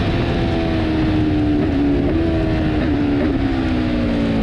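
A track car engine drones loudly and continuously at circuit speed on a track day, with an auto blipper adding small false throttle blips that briefly lift the engine note mid-corner.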